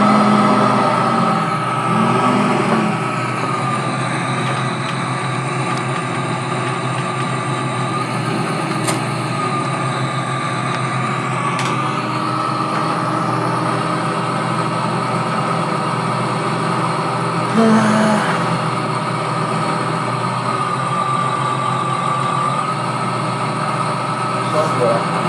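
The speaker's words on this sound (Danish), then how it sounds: "det er sådan en smuk traktor på en eller anden måde" A tractor engine runs at a constant idle, a loud, steady droning hum with a fixed pitch that continues unchanged for the whole stretch.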